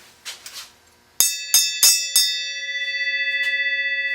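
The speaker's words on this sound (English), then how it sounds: "you gonna ring the bell or what, man?" Metal bell in a garage, struck a few soft taps, then one hard strike and three more quick blows, leaving a bright ringing tone that sustains and pulses as it slowly fades.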